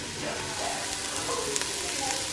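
Vegetables sauté in real butter inside a Ninja Foodi, giving a steady, close crackling sizzle that holds even throughout with a few faint pops and clinks, and no clear talk over it.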